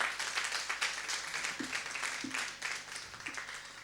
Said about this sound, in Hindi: तो ज़ोरदार तालियां हम सबके लिए।